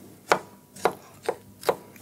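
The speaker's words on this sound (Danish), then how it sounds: "Og jeg gør det samme med cornichonerne. Skærer dem i skiver." A knife slices cornichons on a cutting board, four crisp, evenly spaced cuts at close range with quiet pauses between them and no voices.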